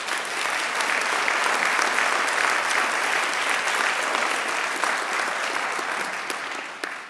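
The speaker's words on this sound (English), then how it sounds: "Ms. Washington, did I hear you clap the loudest on that?" An audience at a police academy graduation claps loudly and continuously, a dense wash of applause that holds steady and then tapers off near the end.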